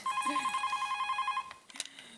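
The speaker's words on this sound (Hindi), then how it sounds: "अभी फोन उठा रही है तो उठा, घंटी बज रही है कब से।" A telephone rings in a steady electronic trill, then stops as the handset is picked up with a clatter.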